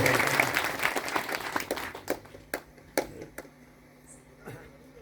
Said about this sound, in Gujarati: તાળીથી વધાવો